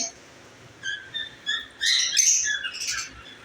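Caged lovebirds chirp in short, scattered bursts, with high, bright calls building into a denser overlapping flurry toward the end; moderately close, with no speech.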